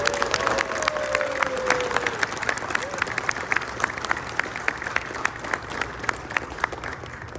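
A crowd at a Brannon Steel campaign event gives sustained, dense applause for a speaker, with scattered cheers and a brief whistle. The clapping is steady and fairly loud throughout.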